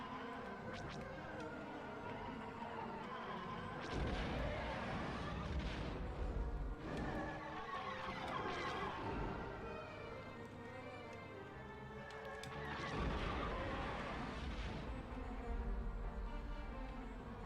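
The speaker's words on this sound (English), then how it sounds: "These cluster seeker missiles are glorious." Cluster seeker missiles firing in the Star Wars Rogue Squadron video game, heard as bursts of booming, crackling blasts in clusters over a constant rumbling game soundtrack, fairly loud throughout with no talking.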